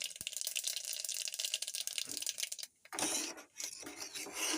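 Mustard seeds dropped into hot oil on a gas stove for tempering a Tamil mango vatha kuzhambu, giving a dense crackling sizzle with a brief pause near the end before the popping resumes.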